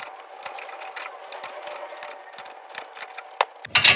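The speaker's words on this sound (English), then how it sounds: "I'm going to switch to a breaker bar and just get a little more leverage" A breaker bar turns a wheel stud installer tool, pressing a new stud into a wheel hub with a steady train of close, light clicking ratchet-like ticks, ending in a sharper clunk as it bottoms out.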